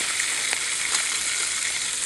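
Halloumi cheese cooks over an open fire in the woods, giving a steady, close, hissing sizzle with faint crackles throughout and no talking.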